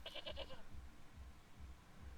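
A goat on a rural Irish farm gives a short, quavering bleat at the start, close and clear, followed by quiet rustling and low thumps.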